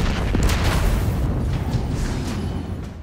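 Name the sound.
explosion in video game Destiny 2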